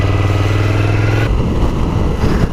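A Ducati Desert Sled motorcycle engine drones steadily while riding, with a low throbbing note that shifts partway through as the rider changes gear, close and loud with no talk.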